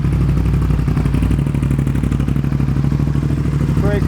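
A 2026 Aprilia RS 660 Factory motorcycle engine idles steadily after starting, a loud, close, even mechanical throb with a lumpy rhythmic pulse that holds without pause.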